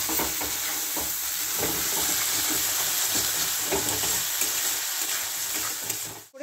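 Spices with turmeric and sugar being sautéed in oil in a pan, giving a continuous close sizzle with scraping stirring strokes, until the sound drops away sharply at the end.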